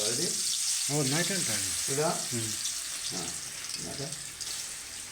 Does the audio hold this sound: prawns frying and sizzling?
yes